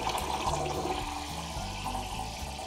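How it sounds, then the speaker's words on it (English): A De'Longhi coffee machine's steam arm heats milk in a jug, giving a steady, close bubbling and hissing rush that runs throughout without pause. "You should have a nice bubbling sound as the milk starts to heat."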